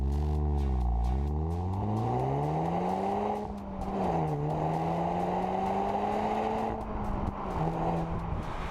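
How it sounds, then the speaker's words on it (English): Seat Leon Cupra 2.0 TSI 290 running in Cupra mode, its turbocharged four-cylinder engine and exhaust droning loudly as revs dip, rise and hold, with a strong rumbling harmonic tone and no talking. "Cupra mode causes the engine to come alive, while the exhaust pipes will release the sound of an angry 2-liter volcano under the bonnet."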